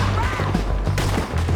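Gunfire in the video game Red Dead Redemption II, a short burst of shots and impacts layered over game music and ambience, loud and close.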